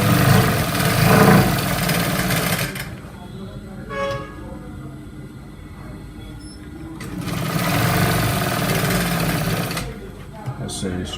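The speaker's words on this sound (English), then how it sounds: "here I'll be sewing half of an inch here" A sewing machine whirs loudly in two sustained runs while stitching a trouser seam, with a quiet pause between them where a few faint clicks and taps are heard.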